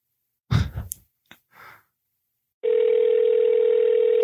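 A telephone dial tone after a call is hung up: a few brief breaths and rustles, then a steady, loud, continuous tone that starts abruptly and holds to the end, close and alone.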